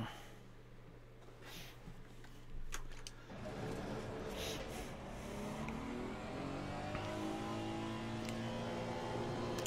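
In the racing game Assetto Corsa Competizione, a race car engine revs up sharply after a quiet start and then holds a loud, rising and falling engine note through gear changes, with no one speaking.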